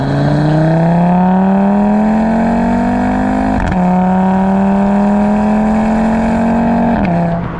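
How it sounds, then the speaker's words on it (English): An Audi TT RS five-cylinder engine pulls hard under acceleration, its rising growl loud and steady, broken briefly by two quick gear shifts. "I've got a 5-pot engine under my right foot, and it makes that noise."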